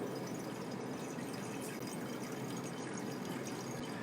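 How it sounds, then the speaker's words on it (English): Water poured into a bowl inside a rattlesnake enclosure, heard as a faint, steady trickling stream with a low background hum and no voices. "And we can pour water into the bowl."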